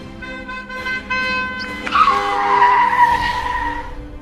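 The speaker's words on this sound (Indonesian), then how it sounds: "Siapa sih bawa mobil ngebut-ngebut dan malam-malam juga?" A car speeds past at night and skids, a sharp tire squeal rising suddenly and ringing loud for a couple of seconds after a steady tonal hum.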